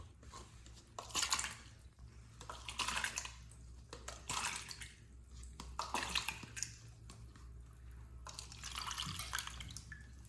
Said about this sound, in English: Now let's try to wash these same tomatoes with some strong Kangen